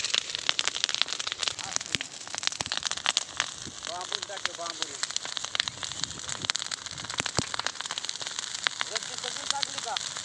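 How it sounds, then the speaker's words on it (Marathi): Large outdoor wood fire in a village, crackling with sharp, irregular pops over a steady hiss, with brief faint voices in the background. "बघा इकडून फुल पेटलं आता"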